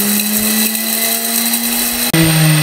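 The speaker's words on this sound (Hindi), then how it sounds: "इसको मैंने ग्राइंड कर लिया, पाउडर फॉर्म में आ गया" Electric grinder jar grinding spices into powder for chicken tikka biryani, a loud continuous whirring motor hum that dips briefly near the end before resuming at a slightly lower pitch.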